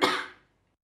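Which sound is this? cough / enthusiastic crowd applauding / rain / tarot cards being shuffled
cough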